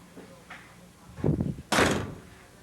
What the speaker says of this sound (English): Then you hit the button and the door closes.